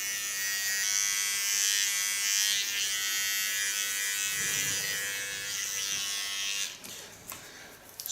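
Electric hair clipper buzzing during a men's hair styling session, a steady high-pitched whine held close for several seconds before cutting off near the end.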